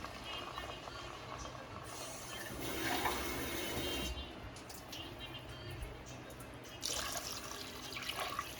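Water pours and splashes in a steady stream into a pot for bagara rice, with a few louder gushing bursts, close up and fairly quiet.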